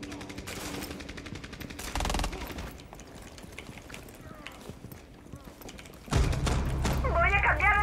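Gunfire in the tactical shooter game Rainbow Six Siege: rapid bursts of shots that build to a loud, sustained volley near the end, with a person talking in between.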